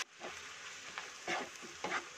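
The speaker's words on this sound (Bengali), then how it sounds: "গ্যাসের আঁচটা বাড়িয়েই আমি পেঁয়াজটাকে ভেজে নেব।" Onions fry in a pan over a high gas flame, a soft steady sizzle broken by a few distinct scraping stir strokes, fairly quiet and close.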